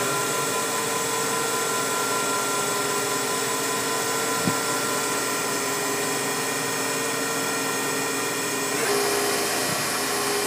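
A Pratt & Whitney Tape Drill Mate drilling and tapping center runs its spindle at a steady high-pitched whine, loud and continuous, shifting pitch near the end as the speed changes, with no talking.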